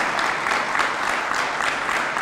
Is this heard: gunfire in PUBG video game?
no